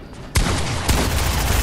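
Gunfire in the Fortnite video game: two sharp, loud shots about half a second apart, each followed by a dense burst of noisy reverberant crackle, with no talk.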